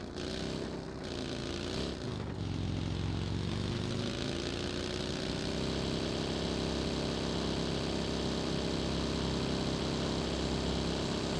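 A vehicle engine running loud and close, a dense, steady drone that settles into an even idle after a brief rise in the opening seconds, with no speech.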